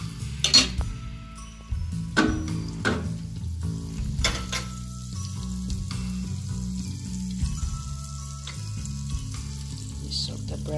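Bread soaked in egg mixture sizzles steadily in butter in a pan, a continuous close frying hiss with occasional clinks and scrapes of a utensil against the pan.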